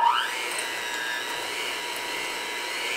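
A kitchen mixer whirs steadily while creaming room-temperature cream cheese, giving an even, close motor whine for the whole three seconds after a brief louder onset.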